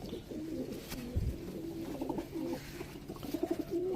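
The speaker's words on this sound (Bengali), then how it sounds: "হ্যাঁ এটা নর পায়রা" A male pigeon coos in low, rolling phrases close by, repeating steadily with faint background rustle and no talk.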